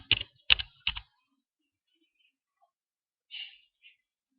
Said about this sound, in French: Et ensuite on tape son prénom.